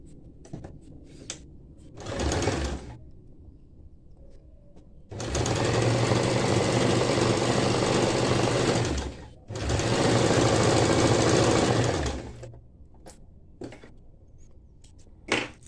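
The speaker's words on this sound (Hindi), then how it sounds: "उसके बाद इसे फिर से एक बार ऐसे सिलाई कर देंगे।" A sewing machine stitches over the seam margin of a Bombay-cut blouse in three loud mechanical bursts, a short one then two long runs, separated by quiet pauses with faint handling noises.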